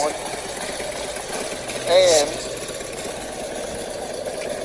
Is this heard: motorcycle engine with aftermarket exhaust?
yes